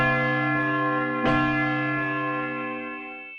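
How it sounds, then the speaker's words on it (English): Large church bells ring loudly in the Zadar bell tower, a dense sustained metallic tone, with a single strong strike midway and a long ringing decay that slowly fades. "you definitely don't want to climb when the bells are ringing"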